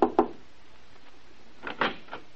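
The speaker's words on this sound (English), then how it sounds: "I'll knock on the door." Two sharp knocks on a wooden door at the start, followed a moment later by a second burst of two or three quicker raps, fairly close.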